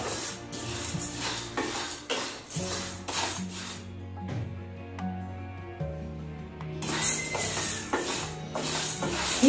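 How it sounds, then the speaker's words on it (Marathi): Chana dal being dry-roasted in a pan until its moisture cooks off, with steady metallic scraping and stirring against the pan, cutlery clinks and soft rattling of the lentils, close and continuous throughout. "आपल्याला चणा डाळही त्याचं मॉइश्चर निघून जाईपर्यंत आपल्याला रोस्ट करून घ्यायची आहे"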